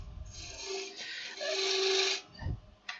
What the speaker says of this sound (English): because I'm taking fairly large cuts, I can still go with the spindle roughing gouge here.